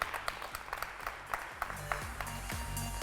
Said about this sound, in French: Sous vos applaudissements, mesdames et messieurs.